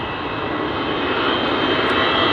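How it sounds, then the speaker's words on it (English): A Boeing 777 jet from London Heathrow roars past, a loud, steady broadband engine rush with a faint high whine, swelling slightly over its few seconds. "Next up we got a 777 from London Heathrow."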